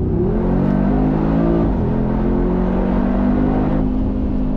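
A 2020 Mercedes-AMG G63 G-Manufaktur engine accelerating, a loud, close, continuous roar that rises in pitch through the gears with a brief dip at a shift, with no talking.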